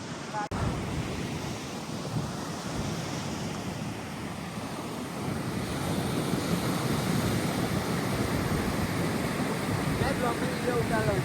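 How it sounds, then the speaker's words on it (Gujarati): Rough sea surf rolls in at Madhavpur beach, a steady wash of breaking waves with gusty wind buffeting the microphone, growing louder and denser midway through. "અમે માધવપુર બીચે ફરવા આવ્યા છીએ પણ મોજા બહુ છે."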